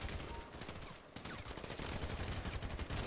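Gunfire in GTA 5 with a Walking Dead mod, a rapid, continuous rattle of shots with a brief lull near the middle, fairly faint and busy under the game's background noise.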